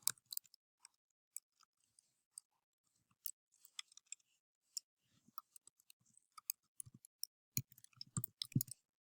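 A computer mouse clicks repeatedly and irregularly during account setup, with sparse isolated taps at first, then denser bursts of quick clicks near the end, close and quiet, with no talking.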